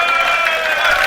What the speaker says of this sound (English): Everyone's applauding the referee for the rack.